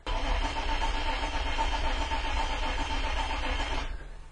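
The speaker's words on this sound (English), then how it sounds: "Yeah, I cannot get this thing to start." A car engine cranks steadily without catching, a continuous loud churning drone that holds for about four seconds before the starter cuts off.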